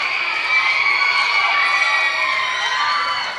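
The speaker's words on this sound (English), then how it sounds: "There are 3 girls screaming wildly for Jake Roan on the opposite side of the floor from me" Crowd at a no-DQ pro wrestling event cheering steadily, with several girls screaming wildly from across the floor, a dense, sustained roar of high-pitched shrieks and whoops throughout.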